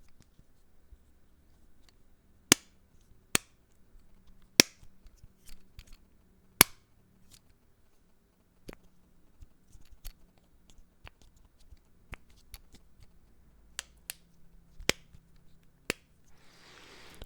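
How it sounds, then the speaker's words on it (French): Fidget spinner clicked by hand in a quiet room, giving a dozen or so sharp, isolated clicks at irregular intervals, close and crisp against near silence. "ce fidget spinner a aussi des petits sons comme ceci, des petits sons de clic, de clic, de clic"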